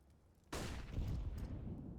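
A burst of video game gunfire erupts suddenly and keeps up as dense, sustained shooting, loud and close, during a competitive match.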